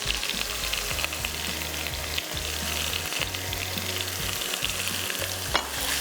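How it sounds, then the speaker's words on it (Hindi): Mutton biryani ingredients fry in a pan with a constant loud sizzle and occasional stirring scrapes, no voices over it. "फ्राई कर लेते हैं।"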